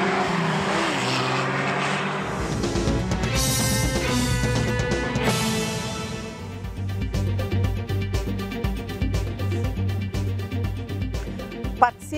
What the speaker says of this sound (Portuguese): pilota um carro de corrida a quase 200 km por hora